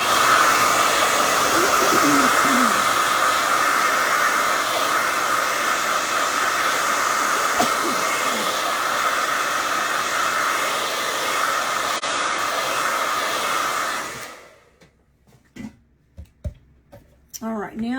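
A hair dryer blows with a steady loud whooshing hiss for most of the time, then switches off, leaving quiet room sounds and faint movement.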